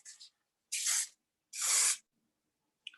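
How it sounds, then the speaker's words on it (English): Light aerosol spray used to set chalk: two short hissing bursts, with a faint partial burst at the start and a tiny one at the end, close and crisp against silence. "So just a real light spray."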